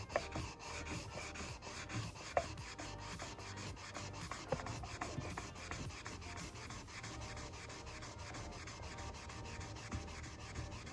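Fine sandpaper rubbed by hand over a repaired crack in a bathtub, giving a steady, close scratchy scraping that runs in repeated strokes all the way through, with no voices.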